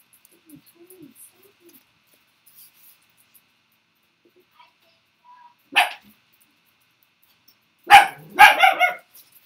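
A dog indoors gives a few sharp barks, one isolated yap followed later by a short quick cluster, loud against an otherwise quiet room.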